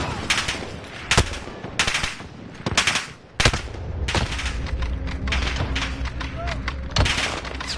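Bursts of gunfire from the video game Modern Warfare crack out in sharp, loud single shots and short volleys, with a player talking over the action.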